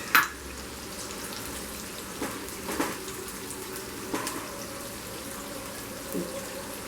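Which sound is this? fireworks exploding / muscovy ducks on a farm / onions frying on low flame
onions frying on low flame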